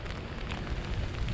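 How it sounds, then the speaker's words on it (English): Light rain falling steadily during Hurricane Ian at a Walt Disney World resort in Lake Buena Vista, a soft, even patter over low rumbling noise with no breaks across the short stretch. "This is light rain in comparison to what's coming later."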